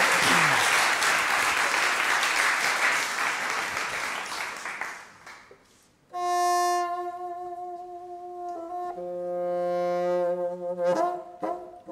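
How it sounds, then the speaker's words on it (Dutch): Warm applause from a concert audience for a group of bassoon players at a Holland Festival event, loud and dense at first, then fading out as sustained bassoon tones begin. "Geef ze een warm applaus."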